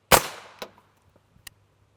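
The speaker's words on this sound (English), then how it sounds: "There was our shot." A single sharp, loud crack from a 4.6x30mm HK round loaded with a Hornady 38gr V-Max bullet hits an armor panel outdoors. The report decays quickly and is followed by a couple of fainter clanks or echoes.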